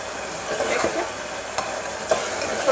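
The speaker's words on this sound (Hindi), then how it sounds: "ये देखिए मसाले अच्छी तरीके से पक रहे हैं।" Tomato and spices for Punjabi chole cook in a pan with a steady close sizzle, broken by a few soft scrapes of stirring.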